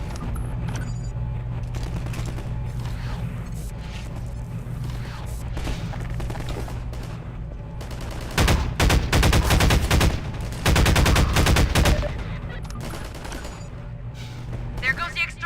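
Magnum revolver shots in the video game Half-Life 2, loud sharp reports clustered in two heavy bursts over a steady bed of in-game music and rumble.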